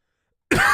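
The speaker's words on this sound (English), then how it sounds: "Sorry for the coughing, guys." After a moment of silence, a single harsh cough bursts out close up.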